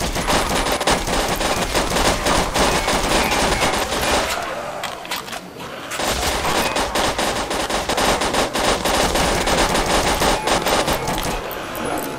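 Sustained rapid automatic gunfire from a weapon in a zombies video game with Rambo-style mechanics rattles loudly and almost without pause for twelve seconds, easing briefly in the middle before resuming at full intensity.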